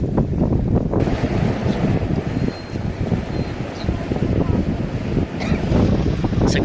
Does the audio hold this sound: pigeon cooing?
no